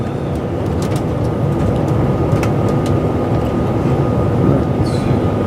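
A train runs along the West Coast Main Line, heard from on board as a loud, continuous rumbling roar with scattered clicks and clatters from the track and a faint squeal near the end.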